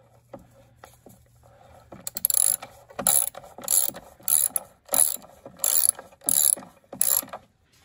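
A ratchet wrench with a 13 mm bit unscrews a long bolt from the gearbox of a 2014 Opel Corsa D 1.4, clicking in about eight crisp rhythmic bursts of pawl ratcheting, close and without speech.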